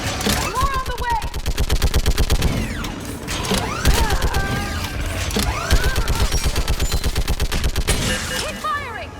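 Rapid, rhythmic bursts of battlefield gunfire from Mass Effect 3 pound steadily and loudly throughout, with sci-fi weapon tones and shouted voices mixed over the barrage.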